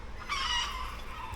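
Backyard chickens, one probably laying an egg, give a short squawking cackle at a distance, faint against steady outdoor background noise.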